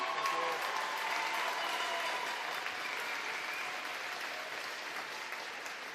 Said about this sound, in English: Everybody, let's have a huge cheer for Robbie and for Craig.